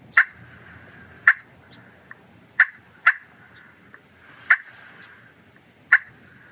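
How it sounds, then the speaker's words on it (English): Sharp, single clucks from a Pistol Creek turkey pot call ring out one at a time, about seven crisp, short notes spaced irregularly over a quiet background, close and clear with no speech. "The next call I would work into is the cluck."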